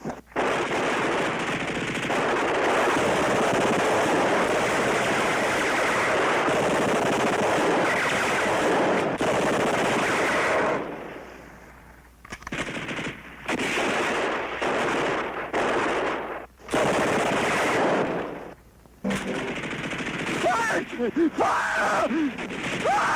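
Machine gun fire in a war movie battle scene, sustained loud bursts for about ten seconds, then choppy broken volleys with brief gaps, shouted voices mixed in.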